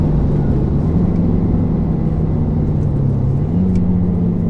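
Renault Mégane 4 RS Trophy-R lapping Paul Ricard circuit, a steady loud in-cabin engine drone with a sustained low tone that rises and falls slightly as the car accelerates, no voices.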